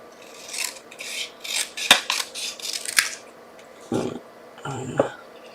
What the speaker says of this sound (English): So I didn't cut this out. I just hand cut it.